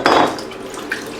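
Lukewarm water splashes at a sink while a face is washed, a brief burst of sloshing and dripping with faint clinks, close and fairly quiet, with no talking.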